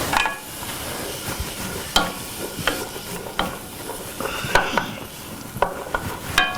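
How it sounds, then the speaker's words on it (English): Shallots and vegetables sauté in hot oil, giving a steady sizzle broken by repeated clinks and scrapes of a utensil stirring against the pan. "So we're going to sauté these for about 4 minutes"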